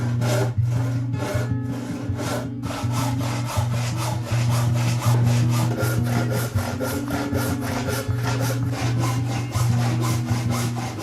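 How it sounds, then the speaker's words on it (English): Steady, rhythmic sawing through a flat sawn ash board, cutting a wide strip for hammer handles; loud, close strokes repeat evenly throughout with no talk. "I'm going to start out by cutting a wide strip out of this flat sawn board"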